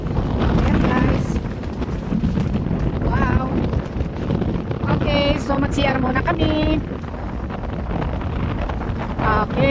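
Strong wind buffets the microphone at the ferry pier on Lamma Island, a loud rushing rumble throughout with people talking and exclaiming over it.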